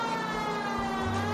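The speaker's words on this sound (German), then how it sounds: "Aus dem Weg, Mann, die fucking Sirene ist an." A police car siren in the video game L.A. Noire wails steadily over a low engine rumble, a sustained loud tone with no pauses and no voices.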